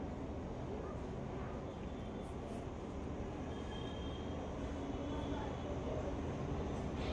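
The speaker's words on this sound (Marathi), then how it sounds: "तर ही भुयारी मेट्रो आलेली आहे आपली" An underground Mumbai Aqua Line metro train pulls into the platform with a steady, loud rumble of wheels on rails and a faint high squeal, continuous and close for the whole stretch.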